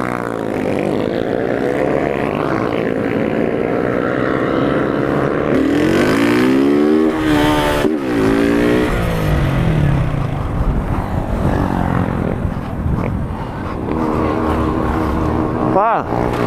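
A motorcycle engine in Londrina revs and drones steadily at close range, with rising and falling pitch sweeps midway, mixed with people talking over it.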